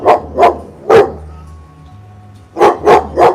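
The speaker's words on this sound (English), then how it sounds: "So my dog is trained to be a bodyguard, and anything he sees weird, he barks at." A trained guard dog barks indoors in two bursts: three sharp, loud barks close together, a short pause with low background hum, then three more evenly spaced barks.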